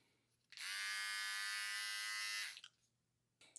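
A Philips OneBlade electric trimmer motor buzzes steadily for about two seconds, close up with a high-pitched whine, then cuts off leaving quiet room noise.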